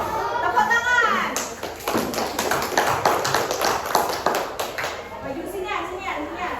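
Classroom students clap for a group coming forward to present, a burst of many hands lasting several seconds. Children's voices and a teacher's speech run over and around it.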